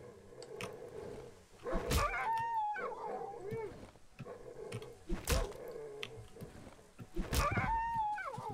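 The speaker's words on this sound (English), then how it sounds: "Those dogs were not a threat to me." Dogs in the horror game Darkwood whimper, yip and howl in drawn-out cries, broken by several sharp heavy blows, all fairly quiet over a dark ambient background.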